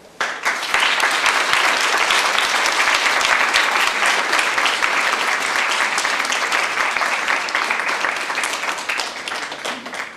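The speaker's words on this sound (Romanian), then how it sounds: "toți cei care au făcut posibil această seară merită un generos rând de aplauze" Generous applause from a school concert audience in December, a dense, loud wash of many hands clapping continuously, swelling quickly and tapering slightly toward the end.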